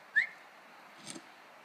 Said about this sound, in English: Something's whistling.